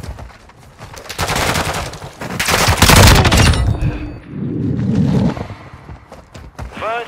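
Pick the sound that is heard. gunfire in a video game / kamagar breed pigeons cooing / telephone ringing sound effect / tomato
gunfire in a video game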